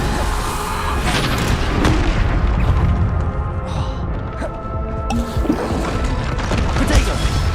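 Bombarda spell explosions go off one after another in Hogwarts Legacy combat, loud booming bursts and thuds that overlap with constant clashing battle noise and no pause between them.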